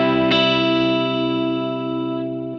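Electric guitar through a reverb pedal at its normal mix setting: one strummed chord rings out loud and steady, its reverberant tail slowly fading with no talking.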